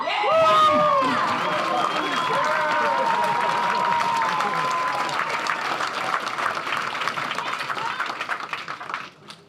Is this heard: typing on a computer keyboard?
no